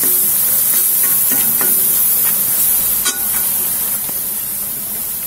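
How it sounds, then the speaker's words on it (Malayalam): Ginger, garlic and onion sautéing in a pan for a spicy Kerala fish curry, with a steady broadband sizzle throughout and several scraping stir strokes, one sharper clack near the middle, close up with no talking. "നമ്മുടെ ഇഞ്ചിയും വെളുത്തുള്ളി ഉള്ളിയെല്ലാം നല്ലതായിട്ട് വഴന്നു വന്നു"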